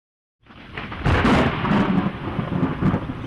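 A thunderstorm with a loud rumbling thunder crash that swells in after a brief silence, then continues as a steady roar of heavy rain and low rolling thunder.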